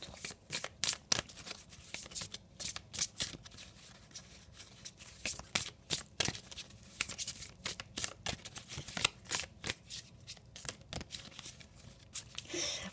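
A deck of tarot cards is shuffled close up in quick, irregular bursts of riffling, flapping card slaps and rustling that run continuously, with no clear speech over them.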